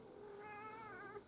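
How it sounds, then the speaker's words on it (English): A cat lets out one drawn-out, faint meow with a wavering pitch, heard alone over a quiet background. "there's a cat"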